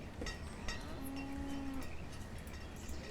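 A cow in the village-building video game Banished moos once, a low drawn-out call amid soft clanking cowbells and a busy background of farm ambience.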